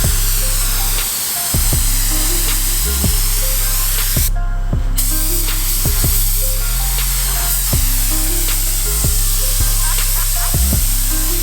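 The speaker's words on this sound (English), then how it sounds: "I'm just gonna go ahead and prime it and then sand that down a little bit" Spray primer hissing from a can onto BMW E36 car parts during a barn-find restoration, a steady close hiss broken by short pauses and repeated bursts.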